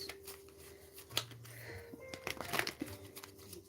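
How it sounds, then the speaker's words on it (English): Tarot cards are shuffled in quick, quiet riffles and slides, close up, with a few soft papery flicks. "Couple more shuffles."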